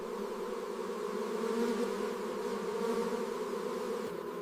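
A honeybee colony hums at its hive, a steady, droning buzz of many wings that holds at an even level throughout with no voices over it.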